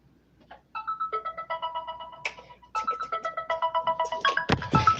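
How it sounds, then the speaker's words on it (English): Phone ringtone from an incoming call, a bright repeating electronic melody that pulses in steady bursts for several seconds, close and fairly loud, with no talk over it. "Calling my phone right now."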